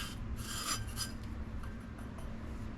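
Wet ingredients and sugar whisked by hand in a bowl for carrot cupcakes, a soft, continuous scraping and rubbing close by, with faint metallic ticks from the whisk against the sides.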